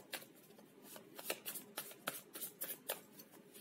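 Tarot cards are shuffled and drawn from a deck in a quiet room, a soft, rapid series of papery flicks and riffles close to the listener, with no talk.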